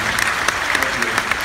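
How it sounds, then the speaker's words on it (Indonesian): Audience applause at an Indonesian talk show about ghosts, a steady wash of clapping from a live crowd throughout, with a few sharper individual claps standing out. "Oke, tepuk tangan dulu dong."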